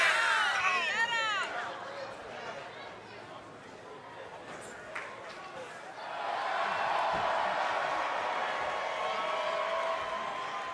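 Wrestling crowd at an indoor pro wrestling show, a broad steady roar of cheering and chatter that swells louder halfway through, with a commentator's voice over the start.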